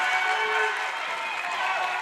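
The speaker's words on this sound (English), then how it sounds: "The Tusky Valley faithful rising, applauding the defensive pressure by the Trojans" Home basketball fans in a high school tournament gym rise and applaud, a steady crowd roar with clapping, heard beneath a radio play-by-play voice.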